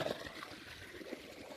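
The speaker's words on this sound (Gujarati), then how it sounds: "આ અમારા મોટરનું પાણી જે અમારા ખેતરે આવે લસકામાં" Water pumped by a motor runs into a village farm field, a faint, steady wash of flowing water with no talk over it.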